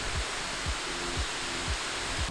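Steady broadband rush of a waterfall in Bohol, Philippines, a constant near roar of falling water with no breaks and no voices.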